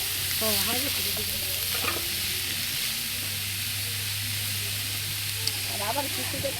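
Radish greens are stirred and fried in a pan, giving a steady sizzle with spatula scrapes and a low continuous hum behind it. Faint voices can be heard at a few points.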